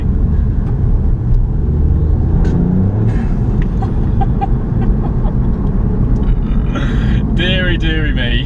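Ford Fiesta ST Mk8 engine heard from inside while driving, a loud, steady rumble that revs freely and then drops as the throttle lifts, with someone talking over it throughout.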